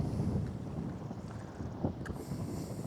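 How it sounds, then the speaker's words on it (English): Wind gusts over a fishing boat drifting off Looe Island, a steady, full rush of breezy buffeting with a few soft knocks and no talking. "The wind has picked up"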